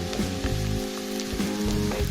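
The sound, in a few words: garlic sizzling in a pan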